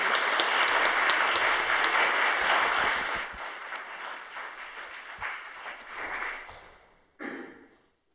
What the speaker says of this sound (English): Should we give a clap to our four panelists?